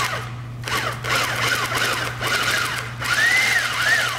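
A Union Special 2200G industrial sewing machine stitching material, running in several short bursts with rapid mechanical chatter and whirring pitch sweeps, close and clear.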